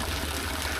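Mountain spring water flowing down from a height between hills, a steady close rush of water with no talking.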